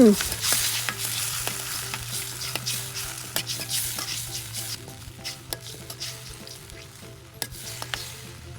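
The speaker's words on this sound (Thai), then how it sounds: "ผัดคลุกเคล้าส่วนผสมให้เข้ากัน" Beef liver stir-fried with oyster sauce, sugar and light soy sauce sizzles steadily in a hot pan while a utensil scrapes and clinks through it in frequent short strokes, close and fairly loud, with no talking.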